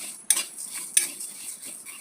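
Whole spices (coriander, cumin, fenugreek and fennel seeds) dry-roast in a pan for a raw mango pickle, stirred with a utensil that gives two sharp metallic clinks and soft scraping, with faint rattling between, close and quiet, no voices.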